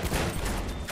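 Rifle fire in the video game Battlefield 1, a dense, loud burst of shots packed into about one second, crackling and overlapping with no gaps.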